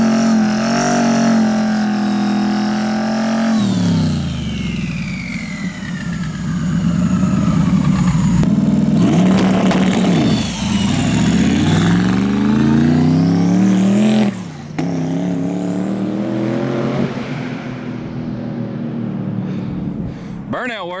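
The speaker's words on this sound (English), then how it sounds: "Burnout worked." Twin turbo Crown Vic drag car doing a burnout in no prep testing, a loud engine roaring and revving with rising and falling pitch and tire screech, with people talking over it.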